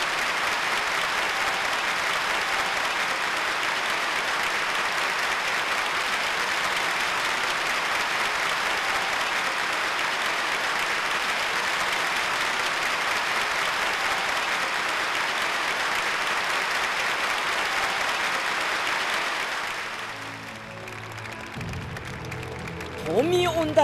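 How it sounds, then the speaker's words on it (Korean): A theatre audience in North Korea applauds a concert by popular South Korean singers, a dense, even roar of clapping that holds steady for about twenty seconds before fading as music begins. "전체 관람자들은 우렁찬 박수로"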